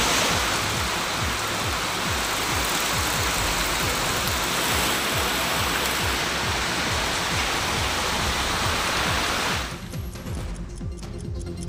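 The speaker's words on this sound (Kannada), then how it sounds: "ಮಲ್ಲಿಕಾರ್ಜುನ ಸ್ವಾಮಿ ಬೆಟ್ಟದಿಂದ ಭಾರೀ ಪ್ರಮಾಣದಲ್ಲಿ ನೀರು ಹರಿದು ಬರ್ತಾ ಇದ್ದು ದೇವಾಲಯ ಮೆಟ್ಟಿಲು ಮೇಲೆ ನದಿಯಂತೆ ನೀರು ಹರಿತಾ ಇದೆ" Heavy rain pours as water gushes down temple steps, making a dense, loud, continuous roar of rushing water that thins slightly near the end.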